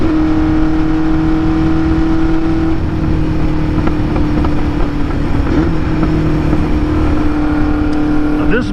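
A 1974 Honda CB400F motorcycle engine drones steadily while riding, loud and close with a constant raw hum and slight shifts in pitch, and a bit of wind noise on top.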